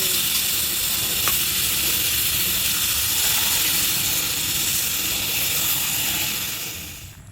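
Hot oil sizzles steadily in a pan over an outdoor village cooking setup by a riverbank, a continuous bright hiss that stays loud and even throughout before easing slightly at the end.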